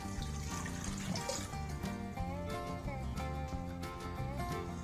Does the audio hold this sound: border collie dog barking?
no